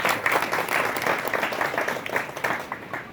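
A crowd at an RCM network meeting bursts into loud, vigorous clapping, a thick continuous patter close by that holds steady for a few seconds before easing slightly at the end.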